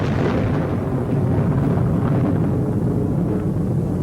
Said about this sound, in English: the first atomic bomb was detonated in the Trinity test near White Sands